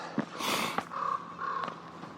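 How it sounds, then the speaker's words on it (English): A crow caws from a rain-soaked meadow trail, a few harsh calls standing out above a steady background hiss, moderately close and with no talking. "There is a crow to my left."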